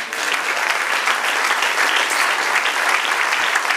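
Steady, dense applause from a church congregation praising God fills the space evenly, loud and close, with no voices rising above it.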